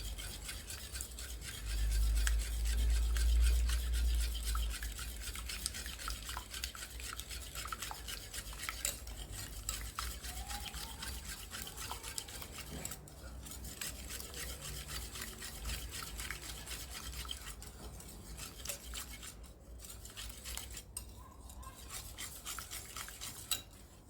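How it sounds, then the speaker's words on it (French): Continuous light scraping and clinking as eggs are stirred together with another ingredient in a bowl for a savory ham and spinach cheesecake, a soft steady rhythm with a low thump early on and no talk. "En mélangeant les deux ensemble, ça va faire une petite consistance."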